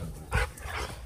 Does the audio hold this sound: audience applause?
no